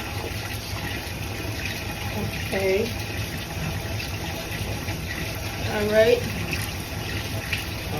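Short bursts of water spray misting onto an 18-inch curly wig, two or three soft hissing spritzes standing out from a quiet room while someone talks briefly between them.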